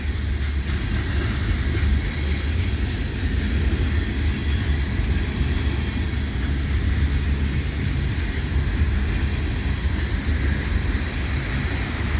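A CPKC freight train with a GP20C locomotive rumbles past at Adelaide Street in London, Ontario, a steady, loud, continuous low roar with rail noise that holds evenly throughout.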